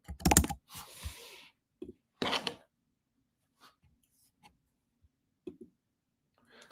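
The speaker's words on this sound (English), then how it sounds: "I'm going to type it out so you have it." Quick bursts of computer-keyboard typing enter an email address, irregular clusters of clicks close by and fairly quiet, separated by short pauses and a few isolated taps.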